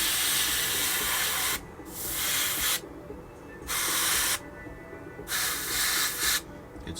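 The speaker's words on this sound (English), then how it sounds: "I'm just going to do a little test spray back here" Spray paint is applied to the license plate frame of a 1969 Corvette 427 in four close, loud hissing bursts of about a second each, separated by short quiet gaps.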